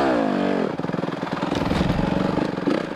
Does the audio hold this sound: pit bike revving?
yes